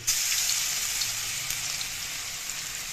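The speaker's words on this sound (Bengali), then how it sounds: "এখন আমি এই মিষ্টি কুমড়াগুলোকে তেলের মধ্যে আস্তে আস্তে ছেড়ে দেব।" Pumpkin pieces sizzle steadily in hot oil for fritters, a constant, bright frying hiss that stays even and close throughout.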